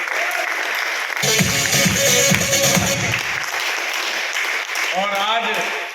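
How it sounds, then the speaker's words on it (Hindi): An audience applauds for Premnath ji at a business training seminar, dense clapping swelling in after a second and carrying on loudly for several seconds while a voice talks over it through a microphone. "एक बार प्रेमनाथ जी के लिए ताली बजाइए।"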